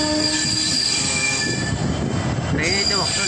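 Train wheels squeal loudly and continuously as a train pulls into a station, with a sustained metallic screech over the rumble of the rolling cars, close by.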